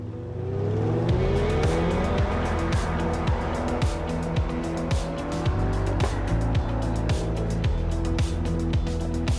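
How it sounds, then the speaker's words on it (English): A 2024 Corvette C8 hybrid's engine roars steadily, with repeated revs rising and falling and tires squealing, loud and close throughout. "they did include engine noise in the audio"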